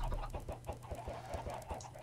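Chickens cluck in a video game, a rapid, regular run of short clucks that carries on throughout against a steady low hum, with no speech.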